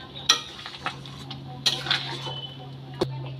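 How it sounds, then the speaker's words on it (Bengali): A spoon stirs spiced moong dal cooked with a rohu fish head in a pot, giving a few sparse clinks and scrapes against the metal over a low steady hum. "মশলাটা দিয়ে খুব ভালো করে নেড়ে নেব।"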